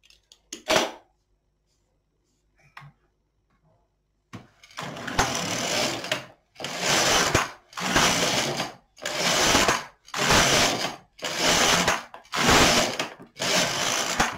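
Knitting machine knitting rows of waste yarn for a sweater, eight loud rhythmic carriage passes, each a roughly one-second rasping sweep, after a few quiet clicks at the start.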